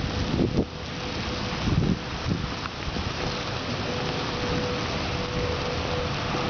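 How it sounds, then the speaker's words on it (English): Steady broadband hiss of rain falling outdoors during a severe thunderstorm warning, with wind buffeting the microphone and a few low thumps early on. "Oh, now it's raining more."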